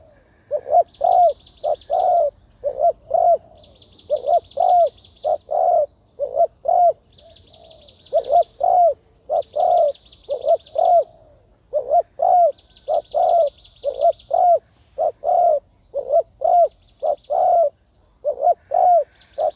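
Loud wild dove coos repeating in a steady rhythm, one call after another in close succession, with no talking.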